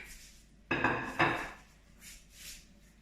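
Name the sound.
tuna croquettes placed in a pan to fry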